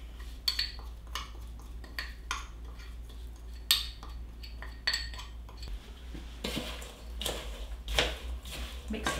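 Sliced apples and breadcrumbs are mixed in a bowl for apple strudel: a spoon scrapes and clinks against the bowl in uneven taps, with a busier, denser stretch of stirring toward the end.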